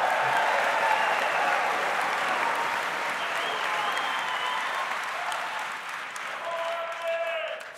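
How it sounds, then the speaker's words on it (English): A large convention crowd applauds continuously, a thick, sustained roar of clapping with scattered cheers and voices mixed in, slowly easing toward the end. "You wouldn't be clapping"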